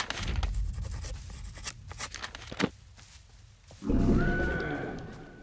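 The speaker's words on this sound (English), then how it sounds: "Just making horse noises" A horse neighs in the horror video game I Hate This Place. The single drawn-out whinny rises near the end, after quieter scratchy rustling and a few sharp knocks.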